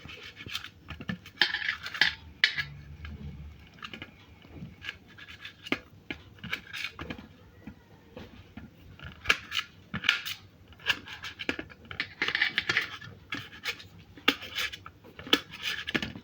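Firm tomatoes are cut into small pieces with a knife on a board, giving repeated sharp taps and scraping chops in irregular clusters, close and fairly crisp, with no talking.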